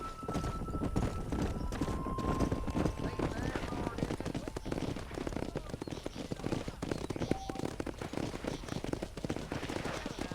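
Horses gallop with a steady rapid clip-clop while herding cattle down a road in Red Dead Redemption, game music and effects running close and loud throughout under occasional talk.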